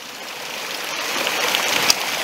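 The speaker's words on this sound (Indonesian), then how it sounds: "gimana kalau air terjunnya ya, air terjun mini" A small mini waterfall flows in a steady broadband rush of splashing water, moderately close and continuous, with no voices.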